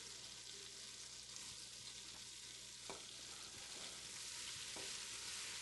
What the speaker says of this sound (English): We'll saute these so that they break down.